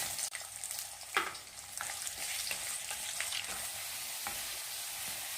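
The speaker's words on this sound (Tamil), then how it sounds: "2 டைமாக அந்த உருளைக்கிழங்க எண்ணெயில் வதக்கி எடுத்துக்கலாம்." Raw potato pieces frying in hot oil in a kadai, a steady close sizzle with occasional stirring scrapes running throughout.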